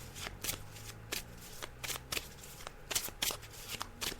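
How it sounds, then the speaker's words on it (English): Tarot cards being shuffled by hand during a psychic reading, a quick series of crisp riffling bursts at irregular intervals, close and fairly quiet, with no talk. "So as you can hear, I'm just shuffling them now"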